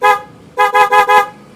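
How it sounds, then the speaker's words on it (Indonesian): One short toot, then a rapid burst of four more from a blue Hella horn mounted on a Yamaha Mio motorcycle, loud and close with a bright, buzzy tone. "Ya, ini Hella yang biru, suaranya seperti ini."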